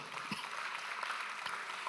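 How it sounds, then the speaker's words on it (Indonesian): A church congregation at a Sunday online worship service in Ngawi breaks into applause, a faint, steady wash of many hands clapping from a distance for about two seconds, with no voices over it. "Tepuk tangan saudara"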